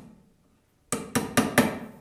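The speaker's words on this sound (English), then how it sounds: "Give yourself a little center punch." A hammer taps a center punch four times in quick, evenly spaced sharp metallic strikes, close and clear after a brief quiet moment, while marking a screw position during a modern Adirondack table build.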